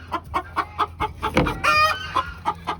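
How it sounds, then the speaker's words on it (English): A hen on a farm near a chicken coop clucks in a steady rhythm after laying an egg, breaking into a louder drawn-out squawk partway through before the evenly spaced clucks resume, close and clear. "There's a chicken just laid an egg."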